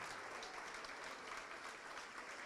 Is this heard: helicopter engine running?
no